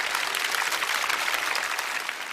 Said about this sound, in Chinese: 你听听这掌声啊！